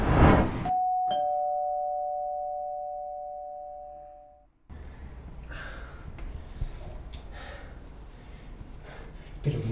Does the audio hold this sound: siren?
no